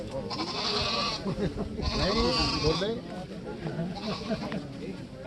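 Goats bleat repeatedly, close by, with people talking over and between the calls.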